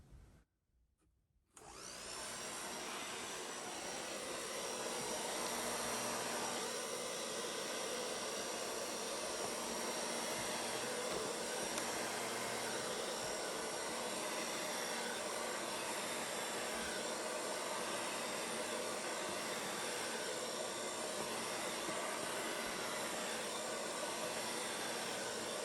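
A heat gun blows steadily on a full-coverage Dutch fluid art pour on a gallery-wrapped canvas, a constant loud hiss-roar that starts abruptly after a brief quiet moment and holds unchanged throughout.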